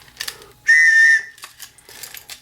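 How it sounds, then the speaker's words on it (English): A safety whistle packed with a TOPS Smoke Jumper knife gives one short, shrill blast of about half a second, blown lightly, between quieter handling noises. "That was a very light blow on the whistle here."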